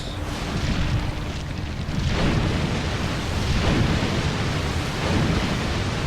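A continuous roar of heavy, rumbling explosions and booming noise in the video game Resident Evil 4, loud and dense throughout with no pauses or voices.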